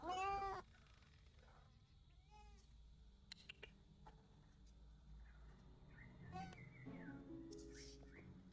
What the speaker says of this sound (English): I don't know what the cat wants.